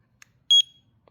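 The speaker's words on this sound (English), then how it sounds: "Oh, beep so you know it's on." A Jorgensen digital tape measure powers on with a short, bright electronic double beep in an otherwise quiet room.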